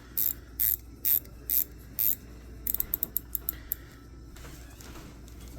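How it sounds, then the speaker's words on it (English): Ratcheting clicks of a 120-click diver watch bezel being turned up close: a few slow, separate clicks, then a faster run of sharp ticks fading into quiet background. "you've got a click bezel on there"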